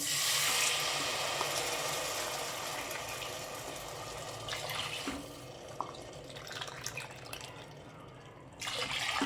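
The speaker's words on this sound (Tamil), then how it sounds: "இப்போ நம்ம வந்து தண்ணி சேர்த்துக்கலாம்." Water pours steadily into a pot of rice, a close continuous splashing rush that tapers slightly, with a few clinks and a fresh surge near the end.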